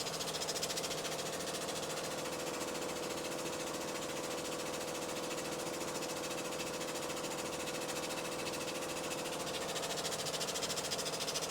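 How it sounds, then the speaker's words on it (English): A blacksmith's power press, freshly re-welded back together, runs with a steady, dense mechanical hum and rapid rattling vibration that fills the whole stretch at constant loudness, with no talking. "So this is the first time that I'm really using the press since I re-welded it back together."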